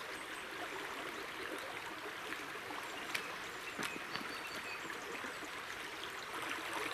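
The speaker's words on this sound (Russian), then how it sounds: "Рвет ручей." A spring stream swollen with meltwater rushes steadily outdoors in early April, a continuous broadband wash of water that stays even and close throughout, with no talk over it.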